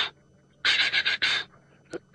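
A person imitates a leopard's chuffing call, a breathy high-intensity panting pushed through the teeth, heard as several quick rasping puffs in a burst followed by a softer trailing breath, close and clear.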